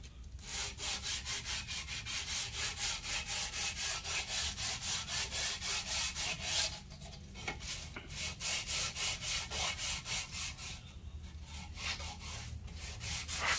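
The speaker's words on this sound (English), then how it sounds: "Grab your sandpaper and your file." Hand sandpaper and a file scrape back and forth across an engine gasket surface in rapid, regular strokes, a close rasping rhythm that stops briefly twice before resuming.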